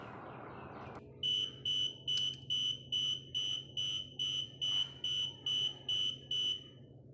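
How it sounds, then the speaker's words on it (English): A TPMS tire pressure sensor with a fresh replacement battery gives a series of about fifteen short, evenly spaced high-pitched beeps, close and clear over a faint background hum, after a brief rustle of handling. "Put in your replacement battery and it will start to beep."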